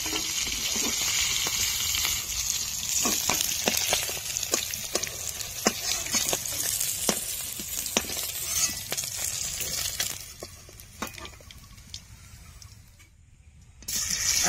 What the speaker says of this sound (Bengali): মাছগুলো কড়া করে ভাজা হয়ে গেছে